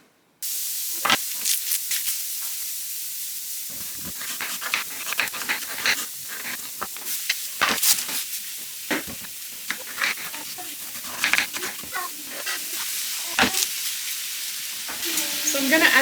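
Food sizzles steadily on a hot skillet, a bright hiss that runs the whole time, broken by scattered pops, crackles and scraping stirs.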